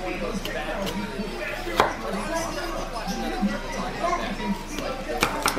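Meat being cut with a knife on a board, firm repeated chops and scrapes close by, mixed with ongoing talk from several people in the room.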